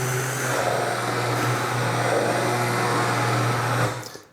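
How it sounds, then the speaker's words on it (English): A stick blender whirs through pumpkin soup in a pot, a loud steady motor hum that runs continuously up close, then winds down and cuts off at the end. "Now I've got my stick blender, which I'm going to use."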